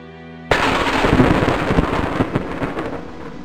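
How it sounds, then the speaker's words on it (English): A loud thunderclap from a lightning strike in a fantasy scene, bursting in suddenly and then rolling and crackling for about three seconds with no speech. "Lightning!"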